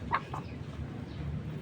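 A chicken gives a couple of quick, soft clucks at the start, followed by quiet low background rumble.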